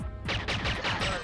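Gunfire in the video game GoldenEye 007 plays as a rapid string of dense, rattling bursts. The shots come in quick, even pulses and fill the foreground.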